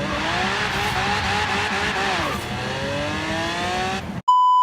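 A 1970 Chevrolet Camaro muscle car in Forza Horizon 3 launches hard and accelerates, its loud engine rising in pitch through several gear shifts before cutting off abruptly.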